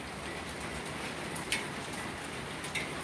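Heavy rain pours steadily during Chiang Mai's rainy season, a dense, even hiss close by with a couple of brief louder splashes and no talking.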